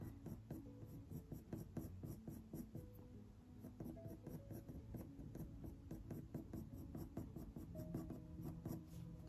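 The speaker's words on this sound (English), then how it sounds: "I'm just letting it almost like slide across the paper," A coloured pencil glides lightly over paper in quick, faint overlapping strokes while sketching fur lines on a harvest mouse drawing, a soft continuous scratchy rhythm, close up and quiet.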